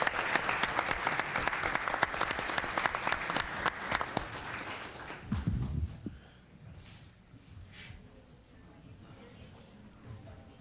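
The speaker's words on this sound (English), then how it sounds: "let's give them a round of applause" An audience at a school district board of trustees meeting gives a round of applause: dense, steady clapping from a roomful of people that fades out after about six seconds, leaving quieter room noise and faint murmuring.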